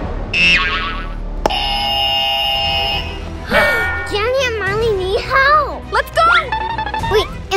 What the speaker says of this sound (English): The alarm came from over there.